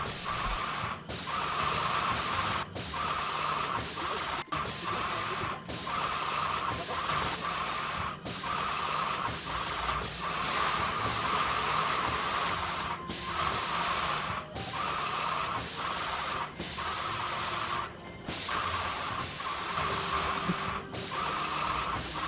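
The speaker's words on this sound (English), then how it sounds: "I am spraying 2 coats of paint for this job." A paint sprayer spraying white paint onto cemented basement walls hisses loudly and continuously, cutting off briefly every second or two before resuming its steady spray.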